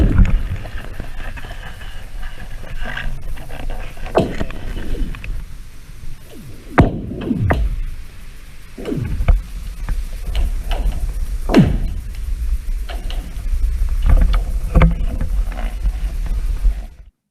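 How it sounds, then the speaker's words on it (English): Underwater on frozen Moose Pond, ice cracks and shifts, giving repeated sharp pops and descending, twanging zings over a constant low rumble. It runs steadily for many seconds, loud and close, with no voices. "The ice cracking and moving,"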